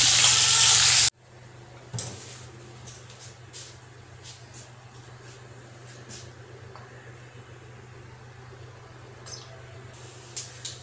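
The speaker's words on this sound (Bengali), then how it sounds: "তেলে তেজপাতা 5 ফোড়ন দিয়ে দিয়েছি" Bay leaf and five-spice seeds sizzle in hot oil in a home kitchen pan, giving a steady soft frying hiss with small crackles after a loud opening burst.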